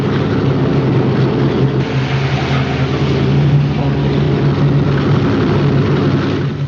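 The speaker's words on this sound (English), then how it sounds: "As soon as the plane goes, Louis." A propeller airplane departs in a classic film scene, its engine drone loud and steady throughout with a strong low hum and broad roar.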